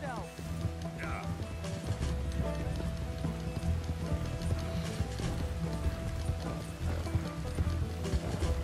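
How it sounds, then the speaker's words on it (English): Horse hooves galloping in Red Dead Redemption 2, a steady rapid clip-clop rhythm under game music and ambient noise, with voices talking over it. "I'm literally pushing this horse as much as I can, and I cannot catch him at all."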